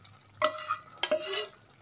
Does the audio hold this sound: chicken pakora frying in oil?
yes